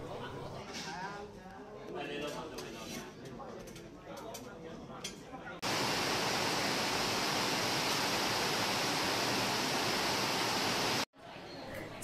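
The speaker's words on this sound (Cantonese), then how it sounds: "出邊呢落緊好大雨啊。" Heavy rain pours down outside as a steady, dense hiss that starts abruptly and holds loud and even for several seconds before cutting off, with people talking beforehand.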